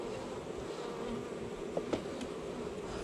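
Honey bees buzz steadily in a dense, close hum while being shaken from a hive into a box, with a couple of brief louder passes near the middle.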